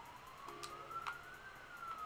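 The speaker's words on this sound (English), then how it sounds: "oh, there's a siren going." An emergency siren passes outside, its wailing tone rising and falling steadily at moderate distance, faint behind quiet room ambience with no talk.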